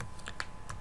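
Keys tapped on a computer keyboard while entering a shortcut name, a few quick separate clicks spaced irregularly, close and fairly quiet.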